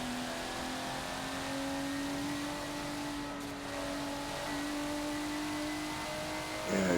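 Porsche race cars revving in Forza at Bathurst, a faint steady engine drone with rising and falling whine as the cars run close together, no talk.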